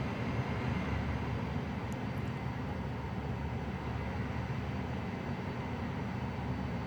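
Cirrus Vision Jet G2 in Microsoft Flight Simulator, a steady broadband jet engine drone holding level throughout with no talk over it.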